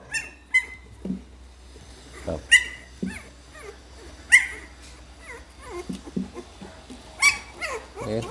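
Pitbull puppies whimper, yelp and give small barks in a string of sharp, high cries spread through the clip, with a low hum underneath and no clear talk.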